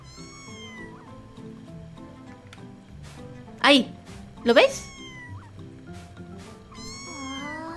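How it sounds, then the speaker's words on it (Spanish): A cat meows twice in quick succession in the video game Mika and the Witch's Mountain, clear and close over soft in-game music, with someone talking before and after. "Se escucha como un gato maullando, ¿verdad?"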